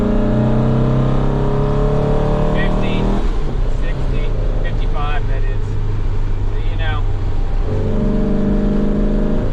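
A 1961 VW Beetle's air-cooled engine drones close up while driving, a steady tone holding, then dropping with a gear change, then climbing again as the car accelerates, loud and continuous.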